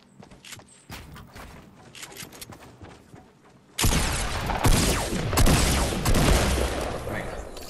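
Scattered sharp shots and clicks in Fortnite: Battle Royale, then a sudden loud burst of rapid gunfire with heavy rumbling that continues to the end, close and dense.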